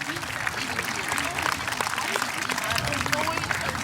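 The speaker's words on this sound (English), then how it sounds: "Please give them applause" Continuous dense applause for Junior Honor Society members at an 8th grade moving-up ceremony, a crowd clapping steadily throughout with scattered voices mixed in.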